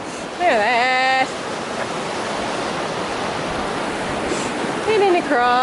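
A big river rushes beneath a bridge along the Pacific Crest Trail, a steady broadband roar heard from nearby, with someone speaking briefly over it at the start and again at the end.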